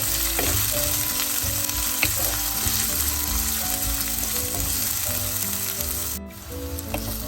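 Onion and green chilli sautéing in hot oil for a breadfruit curry, a loud unbroken frying hiss up close with occasional light stirring clicks and a brief dip near the end.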